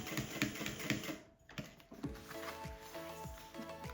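A sewing machine runs a seam across a thermal lunch bag, rapid mechanical stitching clatter with a short pause midway, then a rhythmic, evenly spaced needle thump.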